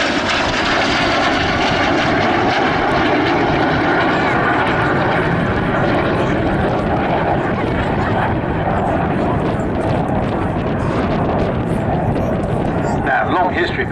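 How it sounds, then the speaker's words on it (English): BAC Strikemaster jet aircraft flying at an airshow, a loud continuous engine roar throughout with a commentator's voice over the public address. "is Burgess, known to his friends Ian Brett, flying the Strikemaster."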